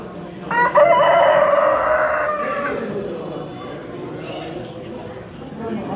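At a fancy poultry show among Appenzeller and giant buff Cochin chickens, a rooster lets out a loud, close crow that trails off, with people talking and general barn noise around it.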